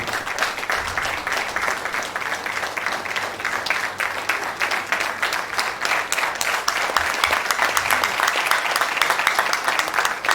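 An audience at a Faculty of Dentistry ceremony claps steadily for a welcome address, a dense, even patter of many hands that carries on without a break and builds a little toward the end.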